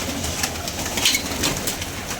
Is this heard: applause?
no